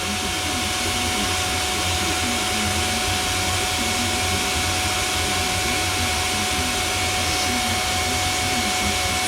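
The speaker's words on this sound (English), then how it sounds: "You open that valve and it pulls the coolant into it." A vacuum coolant filler on a Ford cooling system gives a steady, loud airy hiss and whoosh as it draws coolant in, with a faint voice beneath.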